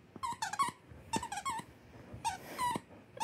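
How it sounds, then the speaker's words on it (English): A dog's squeaky toy squeaks in quick bursts of two and three, repeated through the moment, close and fairly soft, with faint dog snuffling between squeaks. "Is that a nice squeaky toy?"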